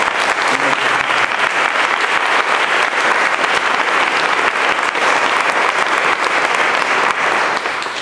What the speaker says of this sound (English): let's please give them a round of applause because they worked so very hard